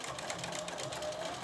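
A sewing machine stitches an underarm seam at a 1.5 centimeter allowance, giving a quiet, even, fast-pulsing mechanical run up close for a brief stretch, with no voices.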